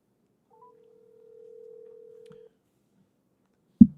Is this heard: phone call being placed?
yes